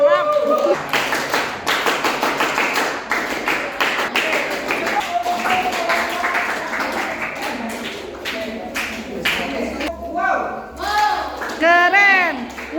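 A group claps hands at a scout induction ceremony during a teacher training course, with quick rhythmic clapping and taps running under loud voices and cheering throughout.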